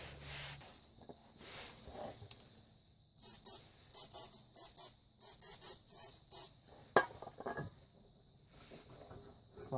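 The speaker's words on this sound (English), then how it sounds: "We're going to spray the hanger down with the silicone, make it slippery" Silicone spray hisses onto a rubber exhaust hanger under a Subaru, coming in a quick series of short bursts, each about half a second, with brief gaps between them.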